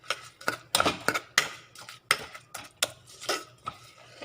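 Utensils scrape and clink against a pot as powdered palm jaggery is stirred into a mixture, a steady run of close, irregular metallic taps and scrapes with no talking.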